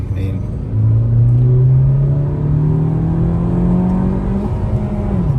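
A 2021 Honda Civic Sport Hatchback pulling away on a city street, its engine rising in a steady droning pitch climb heard from inside the cabin, loud and continuous.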